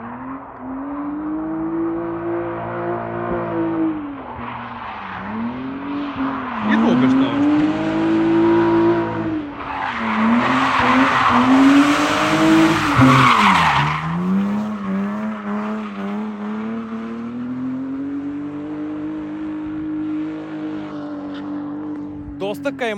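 A drift battle car revs and slides with long, wavering engine tones and a loud burst of tire squeal in the middle, the engine holding close and strong throughout while a person speaks briefly.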